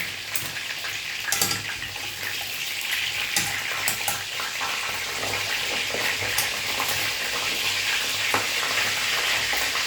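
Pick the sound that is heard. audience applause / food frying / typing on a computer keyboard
food frying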